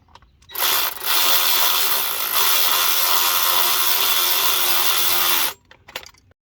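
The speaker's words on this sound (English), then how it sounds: "I installed the 14mm top bolt first and zipped it in with my electric ratchet" An electric ratchet spins a 14mm top bolt into place while a starter is installed on a 2.4L Honda Accord. It gives a short buzzing burst, then a steady, close, high-pitched whir of about five seconds that stops sharply, followed by faint clicks.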